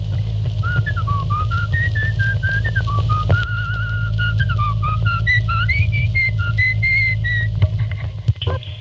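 A clear, melodic whistled tune with sliding notes, played steadily over a loud low hum and hiss typical of an old worn wire recording.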